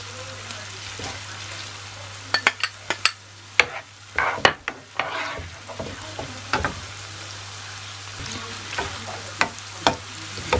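Diced onion frying in a hot pan, a steady sizzle broken by sharp clatters and scrapes as it is stirred, heard close up alongside a constant low hum.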